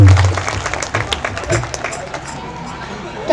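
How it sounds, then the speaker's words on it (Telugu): A church congregation applauds for the children, a burst of scattered clapping mixed with crowd noise and voices that quickly tapers into quieter chatter. "ఒకసారి చిన్నపిల్లలు అందరి కోసం ఒకసారి గట్టిగా చప్పట్లు కొట్టి వాళ్ళని దీవించవలసిందిగా కోరుతున్నాము."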